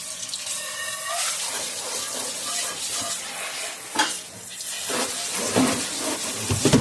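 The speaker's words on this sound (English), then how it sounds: "let that water run just a hair so I can get the rest of that beer out of the sink" Water runs steadily from a sink tap in a continuous rushing splash, with a few clinks and knocks from dishes under it.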